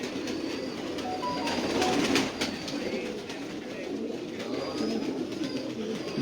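Rare red pigeons coo at a fancier's loft in Sialkot, soft repeated throaty coos mixed with wing and bird chatter at moderate distance, over a steady low background hum, no speech.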